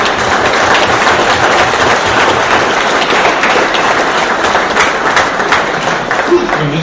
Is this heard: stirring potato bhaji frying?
no